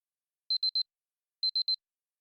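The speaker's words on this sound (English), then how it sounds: "Why isn't that alarm stopping?" Alarm clock ringing in the video game Fate/Grand Order: two bursts of three rapid electronic beeps each, sharp and clear against silence, separated by a short pause.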